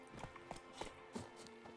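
Horse hooves clip-clopping in The Witcher 3 video game, a steady trotting rhythm of soft, quiet hoof falls with no talking.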